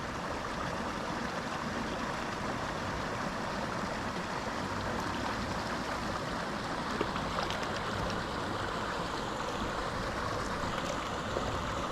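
Steady, full-bodied rush of water from a creek holding cutthroat trout, a continuous broadband wash that stays even and close for the whole stretch, with no voices over it.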